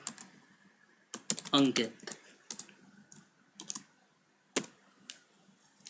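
Bursts of computer keyboard typing come in quick clustered clicks with pauses between, fairly close and quiet, while a voice speaks softly in between.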